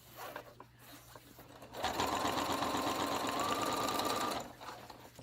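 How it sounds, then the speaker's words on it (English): A sewing machine stitches a sleeve in one steady run of about two and a half seconds, a fast whirring mechanical hum with rapid needle ticking, close and clear with no talking. "I'm sewing on my sleeve"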